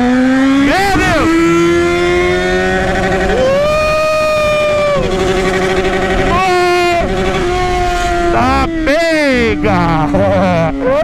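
A Yamaha XJ6 motorcycle engine revs loud and close, its hoarse pitch sweeping up and down through repeated throttle blips, with excited voices talking over it.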